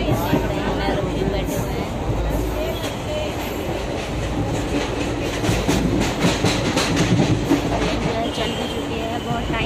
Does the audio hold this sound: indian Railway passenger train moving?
yes